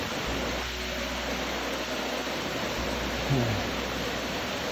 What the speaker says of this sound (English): There's a waterfall again, another one we came upon.